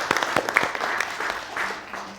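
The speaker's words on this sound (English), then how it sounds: "Let's give an applause for all the 5 participants presenting." Audience applause for five participants at an innovation fellowship final pitch event in Malaysia: a steady wash of many hands clapping, loud and continuous for about two seconds, with a few sharper individual claps near the start.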